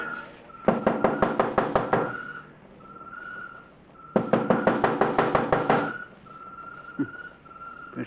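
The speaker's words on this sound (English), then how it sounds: "First time I ever heard of targets knocking on the door." Two bursts of rapid, hard knocking on a door, each a string of about eight sharp raps, separated by a pause, with a faint steady whistle-like tone in between.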